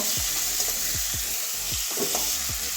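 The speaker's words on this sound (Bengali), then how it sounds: "এবারে মাছগুলো ভালো করে কষিয়ে নেব" Prawns frying in a pan for a tangy tomato curry, a loud unbroken sizzle with a rhythmic series of stirring strokes roughly every half second, close up and without speech.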